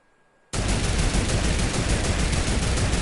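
After half a second of quiet, a video game turret opens up in a loud, unbroken stream of rapid-fire shots that continues to the end, with no voices.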